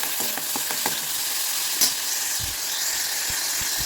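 Masala paste sautéing in hot oil, an even close sizzle and hiss with occasional spatula taps and scrapes against the pan.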